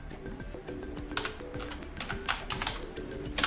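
Keys tapped on a Lenovo IdeaPad 5 laptop keyboard while typing a web address, a series of quick light clicks in an uneven rhythm, close but fairly soft.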